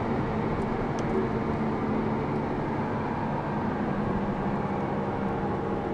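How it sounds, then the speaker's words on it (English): A 2014 Audi TT 2.0T Quattro S-Line engine and exhaust in sport mode, heard from inside the car as a steady, moderate drone with road rumble and no talking. "you can hear the engine is, or the exhaust is a little louder in sport mode"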